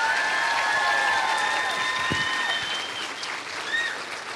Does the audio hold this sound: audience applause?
yes